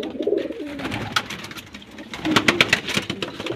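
Loft pigeons at a home coop coo in low, rolling phrases at the start and again near the end, amid scattered clicks, scratches and rustling movement close by.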